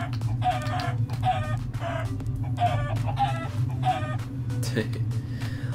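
Repeated clucks from a chicken in Minecraft, about five evenly spaced bursts heard over a steady low hum, with a person talking underneath.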